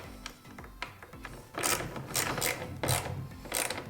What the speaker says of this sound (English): Take your bolts and washers from the old assembly that you just pulled out and install them.